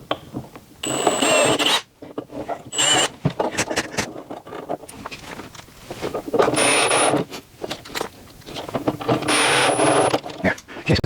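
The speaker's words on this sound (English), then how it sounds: "Just gotta drill the other 2." A power drill drilling holes whirs in several bursts of a few seconds each, whining up and stopping between runs, close and fairly loud.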